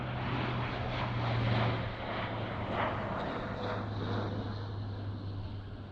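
An Airbus A400M military transport aircraft at the RIAT air show, its turboprop engines producing a steady, loud droning roar with a low pulsing hum and no talk.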